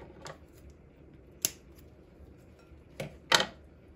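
Scissors snip through a dead Phalaenopsis orchid root, several crisp, close clicks spaced apart over quiet room tone, the last one sharpest and loudest.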